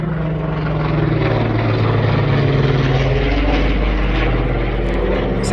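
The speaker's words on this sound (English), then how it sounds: "The helicopter's come to rescue me." A helicopter passes overhead at a Portugal farm, its engine and rotors making a loud, continuous low drone with a steady throb that swells slightly, with no one speaking.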